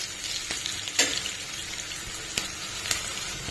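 Garlic pieces fry in a pan with a soft, steady sizzle, broken now and then by sharp little crackles and pops. The sound is quiet and close, with no voices over it.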